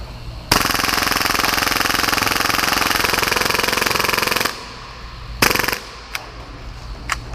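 A full-auto Hi-Capa HPA airsoft pistol fires one long rapid burst of about four seconds at around 30 rounds per second, loud and close. After a brief pause come a short second burst and a couple of single shots.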